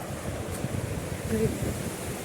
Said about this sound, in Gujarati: ફૂલ પાણી હાલે છે